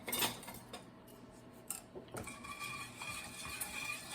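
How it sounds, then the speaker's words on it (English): Soft metallic clinks and stirring as pickled beet ingredients, including whole black peppercorns, are whisked together in a pot, a quiet close clatter with a few sharper taps. "We're going to whisk that around."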